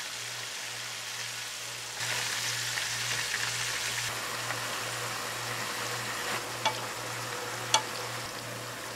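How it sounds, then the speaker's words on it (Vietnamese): Steady, continuous sizzling of squid frying in hot oil, loud and close, with a brief stir and a few sharp pops near the end. "Mình chỉ chiên cho nhanh, mực chuyển màu hơi vàng là được ha."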